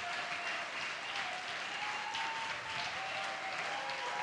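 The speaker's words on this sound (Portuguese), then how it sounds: "Eu vou pedir à igreja uma salva de palmas ao Senhor pela vida desses caras." A church congregation applauds with sustained, dense clapping that holds at an even level throughout.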